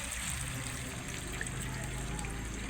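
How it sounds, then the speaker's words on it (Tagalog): Two glasses of water poured into a pot of pork caldereta, a steady, quiet trickling and splashing of liquid running continuously throughout. "Pwede na po natin ilagay ang 2 basong tubig"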